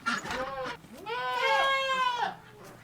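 Goats on a dairy goat farm bleating close by, a short bleat followed by a long, loud, wavering bleat, with little else in the background.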